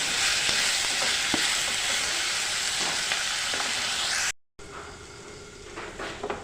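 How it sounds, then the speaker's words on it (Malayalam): Sliced onions sautéing in a pan for a Kerala-style squid roast, a steady close sizzle with scattered crackles that cuts out briefly, then resumes quieter and muffled as if under a lid. "നല്ലതുപോലെ ഒന്ന് വഴണ്ട് വരുന്നിടം വരെ നമുക്കിത് അടച്ചു വെച്ച് വേവിക്കാം"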